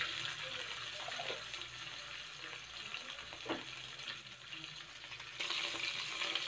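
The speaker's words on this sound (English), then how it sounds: "I'm gonna put a little bit butter on the pan and a little bit oil." Butter and oil sizzling in a frying pan at the start of fried rice with shrimp, a steady soft crackle with a few clinks and shifts, quiet and continuous with no talk.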